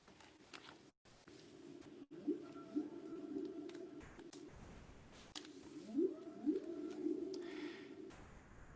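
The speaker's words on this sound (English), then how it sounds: "let's bring on the whales." Whale song from a recording plays quietly: long gliding moans and rising, sweeping calls with wavering tones, broken by brief gaps and faint rustling in between.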